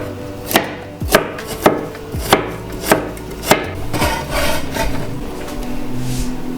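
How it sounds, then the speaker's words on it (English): A knife julienning a carrot strikes the cutting board in six crisp, evenly spaced chops, close and loud, followed by a softer stretch of rustling and scraping. "So I'm going to cut off the ends here, and we're going to julienne."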